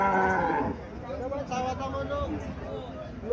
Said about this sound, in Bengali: বকনা গরু